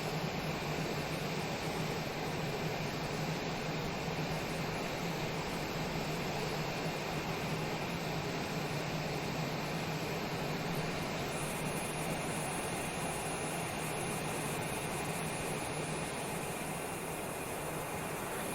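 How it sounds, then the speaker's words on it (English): Aircraft engine drone from the Microsoft Flight Simulator video game, a steady, loud, unbroken roar with a constant low hum that holds evenly for the whole stretch, with no talk over it. "as you're moving around the aircraft, the audio switches around as well"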